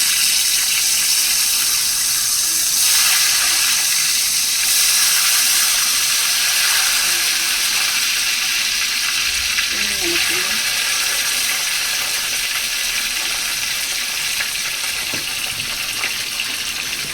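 Food hits heated oil and sizzles loudly, a dense continuous hiss that swells early and then holds steady, with a voice talking intermittently over it.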